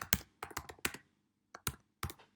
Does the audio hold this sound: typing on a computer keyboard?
yes